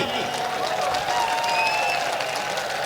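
A crowd at a Hindi hasya kavi sammelan comedy-poetry stage show applauds, with dense, continuous clapping and a tonal whistle or cheer running through it, loud and sustained throughout.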